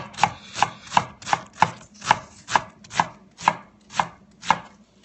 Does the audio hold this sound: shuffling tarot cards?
no